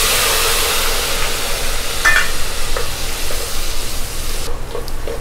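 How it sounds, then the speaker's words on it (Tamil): Dried red chillies fry in hot oil with mustard and fennel seeds for Coimbatore-style Chicken Chinthamani, giving a continuous loud sizzle with a few brief clicks and pops and a short stir near the end. "வரமிளகாய் பாருங்கள் நல்லா வறுபத்திருச்சு"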